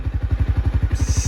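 A Honda CBR300R fitted with a Yoshimura R77 exhaust idles close by, giving a loud, even, throbbing pulse of regular exhaust beats with no talking.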